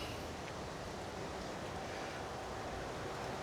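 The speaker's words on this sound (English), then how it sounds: "It's a little bit windy today, so also hopefully this mic isn't picking too much or clipping too much." Wind buffets a microphone outdoors at night, making a steady, loud broadband roar that never lets up, with no voices over it.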